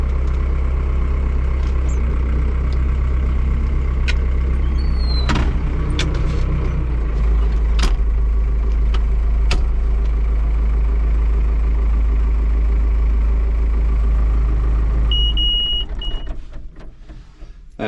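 An Oliver tractor engine idles steadily with a deep, even rumble for most of the stretch, sharp electronic beeps from a round baler monitor cutting in, before the engine sound drops away near the end.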